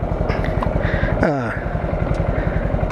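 A 2020 Honda Grom motorcycle on new slick tires idles steadily as it pulls in and stops under braking, its close, even engine putter running beneath a rider's talk.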